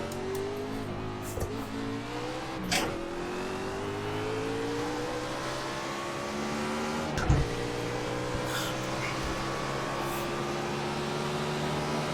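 A NASCAR race car engine in a video game drones steadily with rising and falling pitch sweeps, another car whooshing past near the middle, continuous and fairly loud with no voices.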